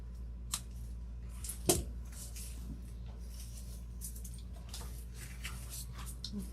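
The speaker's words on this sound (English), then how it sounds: "I keep forgetting to cut the stems off." Scissors snipping the stems of greenery for a fall topiary door hanger, giving a few faint, scattered close-up snips with one sharper cut over a quiet background.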